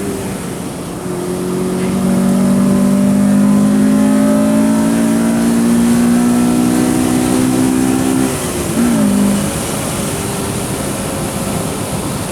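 A 1998 Acura Integra Type R DC2 engine pulling under throttle while driving, a steady rising drone that holds loud, then dips briefly as the throttle lifts and comes back on, heard from inside the car without talk.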